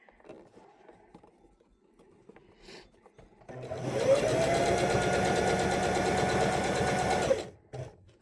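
Hand-crank sewing machine stitching a fabric apron, a steady close mechanical whir with rapid needle clatter running for about four seconds, preceded by quiet handling noises and ending abruptly.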